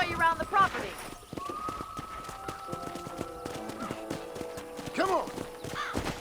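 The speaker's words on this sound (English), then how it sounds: "I picked out a fine horse for you." Clip-clopping horse hooves in the Red Dead Redemption video game, a steady run of hoof beats at moderate distance, with a horse whinny and game speech heard over them.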